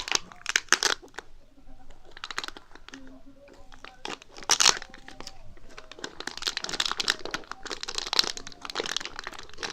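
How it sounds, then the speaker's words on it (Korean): Plastic stationery packaging crinkles and tears open close by in sharp, irregular bursts of crackling and ripping, with a voice briefly exclaiming between the noises. "이거는 라스트 뜯어볼게요"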